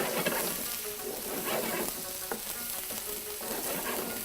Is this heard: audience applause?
no